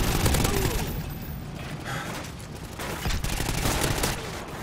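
Scattered gunfire bursts in Call of Duty Ghosts on the Freefall map, moderately loud and mixed with other battle noise.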